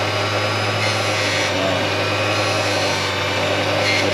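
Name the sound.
bench grinder running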